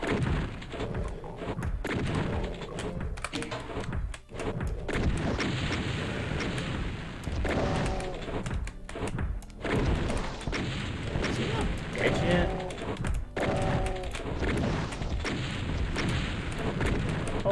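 A shotgun in the video game Doom fires repeatedly in a dense, continuous barrage of booms and thuds, mixed with game noise and talk.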